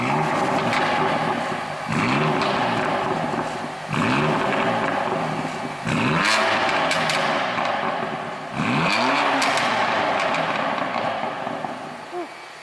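Modified BMW M3 engine idling loudly, then revved hard in four or five sharp bursts roughly two seconds apart, each rising and falling, close and loud with a crackling exhaust.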